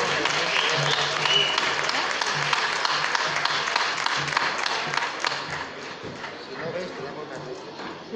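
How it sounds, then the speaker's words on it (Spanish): At a 2021 town festival proclamation, an audience gives sustained applause to welcome the festival speaker, dense clapping filling the space for several seconds before tapering slightly, with voices mixed in. "Vamos a recibir con un fuerte aplauso a nuestra pregonera 2021, Ángela Romero Alegría"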